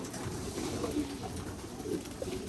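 Pigeons cooing in the hen section of a stock-bird pigeon loft, several soft overlapping coos in a low continuous murmur with no talking.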